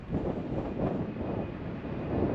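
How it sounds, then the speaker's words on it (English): Wind buffets the microphone at a lakeside with a constant low roar and rumble, steady and loud throughout, with no voices. "I don't know if the microphone's picking up wind, but it is very windy."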